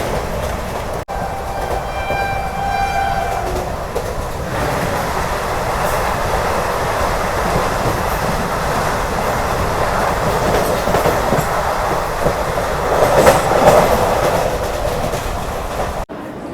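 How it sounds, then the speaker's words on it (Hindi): Shridham Express 12191 rolling slowly along the rails, a steady, continuous rumble with soft rhythmic clatter of wagons close by and a brief squeal near the end, no talking. "अपना ट्रेन धीमी गति से आगे बढ़ते हुए चलो दोस्तों।"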